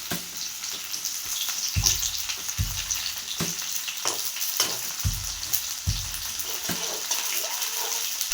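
Onion sizzling and frying in oil in a wok, a steady crackling hiss throughout with repeated stirring scrapes at irregular intervals, close and fairly loud, with no talking.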